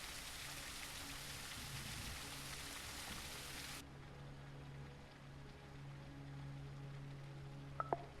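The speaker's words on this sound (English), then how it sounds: "it is a rainy night" Rain falling at night in the video game Detective: Rainy Night, a faint, steady hiss of rainfall, brighter and fuller for the first few seconds, then thinner under a low background hum, with a couple of tiny clicks near the end.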